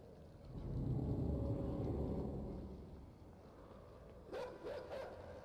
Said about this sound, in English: Oh god, these dogs.